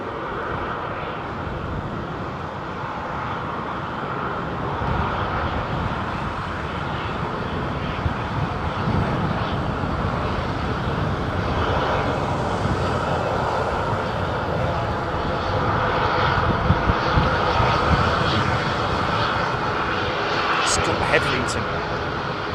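Heavy airliners arriving at London Heathrow Airport produce a steady, broad jet roar that swells and lingers, with faint voices in the background throughout.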